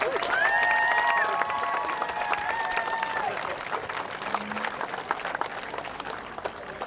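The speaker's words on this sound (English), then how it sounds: "Big round of applause, please, for our bronze medal winners from Dunedin Columba College." An audience applauds bronze medal winners from Dunedin Columba College at a school rowing regatta prize-giving. Steady applause fills the whole stretch, with tonal whistles or cheers early on and a public address voice faint underneath.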